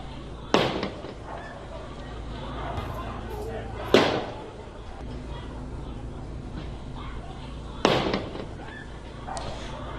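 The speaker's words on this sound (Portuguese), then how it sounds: "durante essa confusão, tiros foram disparados para o ar" Three sharp, loud bangs spaced a few seconds apart, with a fainter fourth near the end, ringing out over background chatter and outdoor noise.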